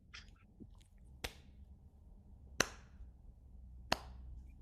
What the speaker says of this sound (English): So 3 slow claps.